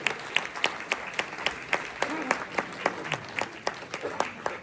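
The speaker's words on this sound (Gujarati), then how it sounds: "એકવાર જોરદાર તાળીઓ રાજુભાઈ માટે." Audience applause at a Gujarati comedy show in America as thanks to Rajubhai Shah, with a crowd clapping steadily and rhythmically from nearby for several seconds and some voices underneath.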